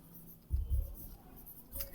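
Writing on a board during a grammar class: a few brief scratchy strokes near the middle, soft and close, with faint room noise around them.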